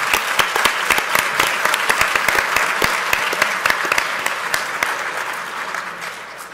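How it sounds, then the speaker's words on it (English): An audience claps steadily throughout, a dense wash of applause with a few sharper individual claps standing out. "Now, go ahead and clap."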